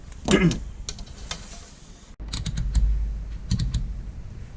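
Wire connectors being snipped off a Man Roland HMI monitor during a backlight installation: a handful of sharp, close clicks spread unevenly over a few seconds, with faint room noise between them.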